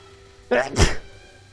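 A single sharp human sneeze, a quick inhaled build-up followed by a loud burst, close to the microphone.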